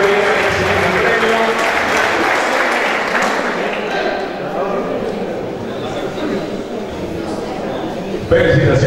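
Audience applause at a youth football league awards ceremony in Ecilda, greeting an under-17 prize winner coming up to collect his cup; steady, dense clapping fills the room throughout, with voices mixed in underneath.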